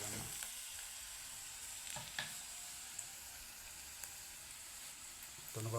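Chili powder mixture frying in a pan, a steady close hiss and crackle with scattered scraping taps of a utensil stirring it through; no voices.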